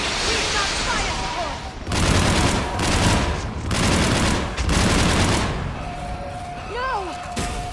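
Sustained bursts of sci-fi gunfire from a Mass Effect 3 battle on Thessia, loud and close, coming in several heavy volleys with short gaps, mixed with alien screeches and shouted commands.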